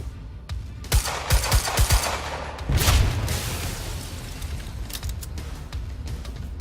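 Machine gun fire in the Quantum Break video game comes in quick bursts of close, sharp shots, followed by a heavier boom and then a lingering rumble with scattered distant shots, loud and with no voices.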